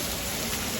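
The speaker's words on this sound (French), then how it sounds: "Notre possible visite a été écourtée parce que notre ami la pluie a fait son apparition." Monsoon rain in Thailand, a constant, even hiss of heavy downpour on surfaces nearby, filling the short stretch without pause.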